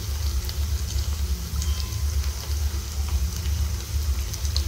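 Onions sizzle in a pan with ginger garlic paste for a chicken kheema biryani, a steady, close, even frying hiss with faint crackles and no voices.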